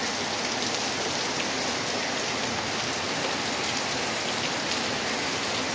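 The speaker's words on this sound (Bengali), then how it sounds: "কেমন মুষলধারে বৃষ্টি শুরু হলো দেখুন।" A torrential downpour roars steadily, dense unbroken rain hammering on surfaces with a constant wash of sound and no voices.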